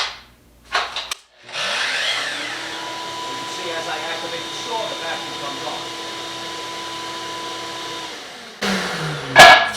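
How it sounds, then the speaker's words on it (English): A miter saw whines steadily for several seconds beside the constant roar of a switch-linked shop vacuum, both starting together and cutting off near the end. "I have my miter saw hooked up to a vac switch which turns on the vacuum as I turn on the saw."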